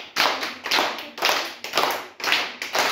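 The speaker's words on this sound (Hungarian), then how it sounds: "Mennyit tapsoltál, Gergőke?" Sharp hand claps in a school counting game for young pupils, six evenly spaced crisp claps ringing out in a steady rhythm in a classroom.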